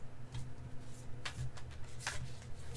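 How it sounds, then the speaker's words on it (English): Tarot cards from the Light Seer's Tarot deck shuffled by hand, giving soft riffling bursts of card flicks and slides at close range, repeating irregularly over a low background hum. "for these, I just shuffle them this way"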